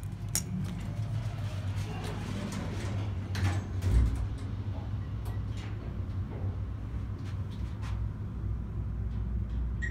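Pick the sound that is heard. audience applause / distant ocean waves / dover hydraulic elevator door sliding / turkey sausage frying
dover hydraulic elevator door sliding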